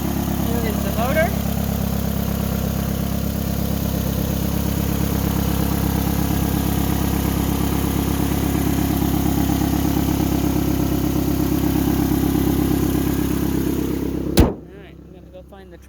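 A 2009 Nissan Altima engine runs at a steady idle, a constant mid-low hum heard up close for about fourteen seconds before it cuts off abruptly into near silence.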